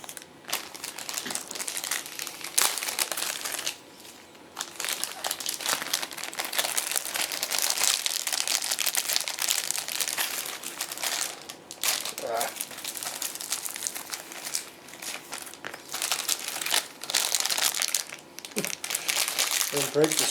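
Plastic packaging of a Splatoon Buki weapon collectible being broken open and handled, producing loud close crinkling and crackling that continues in bursts with brief pauses, while a person talks quietly in between.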